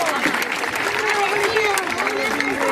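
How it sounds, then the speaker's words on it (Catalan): A crowd at the official opening of the Festa Major de Maials, a town festival, breaks into applause, a broad wash of clapping mixed with raised voices and cheering throughout the short burst. "Un fort aplaudiment, sisplau."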